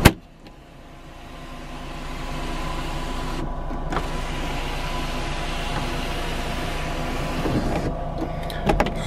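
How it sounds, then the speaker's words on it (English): An electric sunroof motor on a 2006 Volvo S60 car whirs steadily as the roof opens and closes, a constant mechanical hum inside the cabin with a couple of clicks at the start and end. "Sunroof is working correctly."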